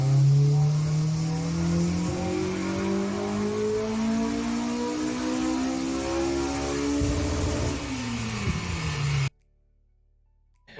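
A Honda car engine revs hard and loud, its pitch climbing steadily through the rev range before an audible switch-over changes the tone. The engine cuts off abruptly near the end.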